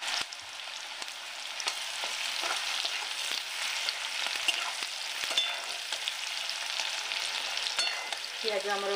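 Onion sizzling steadily in hot oil with bay leaf and cinnamon, a dense continuous frying hiss with occasional stirring clicks, alone without talk.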